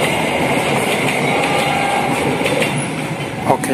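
The Ciremai passenger train passes Cimindi station in Indonesia in the rain, with a steady loud rolling rumble and clatter of railcars and a brief knock near the end. A voice talks briefly.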